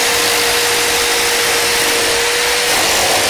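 A Metabo jigsaw starting up for a straight cut runs as a loud, steady motor whine with a constant pitch, continuous and close, with no voices over it.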